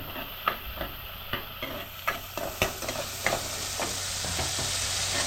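Tomatoes, onion, garlic and ginger frying in a pan, a steady bright sizzle broken by repeated scraping and stirring clacks at an uneven rhythm, close and fairly loud, with no voices.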